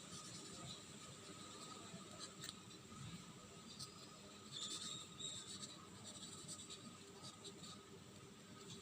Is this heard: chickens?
no